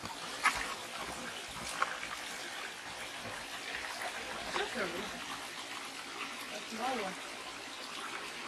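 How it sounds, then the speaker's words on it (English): A small forest waterfall pours down in a steady, broad rush of water, fairly faint and continuous, while people talk over it now and then. "It's a small waterfall"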